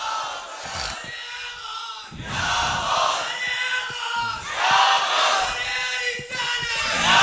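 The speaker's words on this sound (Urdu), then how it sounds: "یا غوث کا نعرہ لگے گا" A religious gathering chants a "Ya Ghaus" slogan in unison, loud group shouts rising in repeated waves with brief dips between calls.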